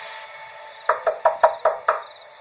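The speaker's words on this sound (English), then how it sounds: "so I just knocked really hard." Six hard knocks on the front door of a building, landing in a quick, evenly spaced burst, loud and close, over a faint steady background hum.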